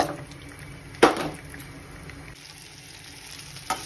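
Cut coriander vadis dropped into hot oil with sesame seeds and mustard seeds for tempering, a soft sizzle with a sharp splash-burst near the start and a smaller one later.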